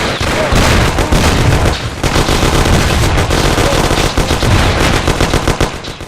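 Dense automatic and rapid gunfire from a Mafia: The City of Lost Heaven shootout, loud overlapping bursts and booms that crowd the whole stretch, with a short lull near the middle.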